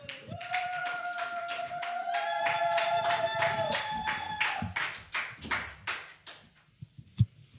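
Church congregation clapping together in a steady, loud rhythm over a sustained tone, the applause loosening into scattered, fading claps near the end.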